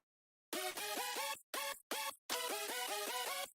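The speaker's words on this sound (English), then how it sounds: "So there's like the sort of main lead layer of the main lead, which sounds like this." A crisp, bright lead synth layer with lots of high end plays short sustained notes in choppy bursts separated by brief silences, clean and up front with no voices.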